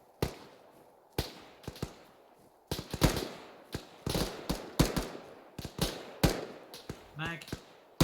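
Repeated sharp gunshots ring out during team fire-and-movement training, irregular single and paired cracks spaced through the stretch, loud and close with some more distant, while voices call out between shots.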